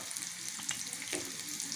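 Ginger and garlic frying in oil for bhindi masala, a soft continuous sizzle with a couple of faint stirring scrapes, heard alone and fairly quiet.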